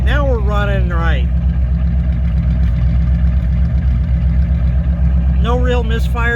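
A steady idling Buick engine rumbles throughout, low and constant, after a startup with stalling and odd sounds, with a person talking over it at the start and again near the end.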